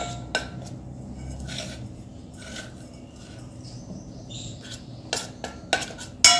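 Spoon stirring and whisking a thin flour slurry for cabbage Manchurian in a bowl, with sharp intermittent clinks and scrapes of metal against the dish, clustering toward the end, close and quiet with no talk.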